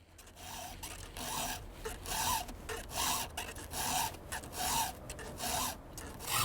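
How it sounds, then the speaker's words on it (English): Steady back-and-forth rasping of a file on a chainsaw chain out in the woods, about a dozen rhythmic strokes, close and fairly loud, with no talking. "I'm giving this chainsaw a little touch up here out in the woods."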